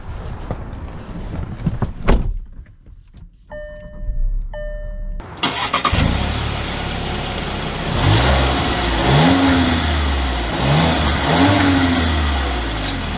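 A 2022 VW Tiguan SE R-Line starts up, then revs and accelerates as it pulls away, the engine rising and falling in pitch through several gear changes, loud and close from inside the cabin.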